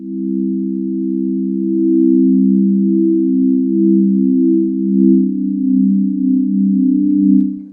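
A smooth, low synthesizer pad built from sine waves holds steady as a sustained chord, slowly widening with a gentle wavering beat from unison-detuned layers; no voices.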